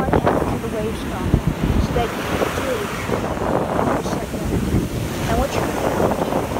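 Ocean waves washing up onto wet sand at a beach, a steady, continuous surf roar with gusty wind buffeting the microphone throughout, no clear individual breakers standing out.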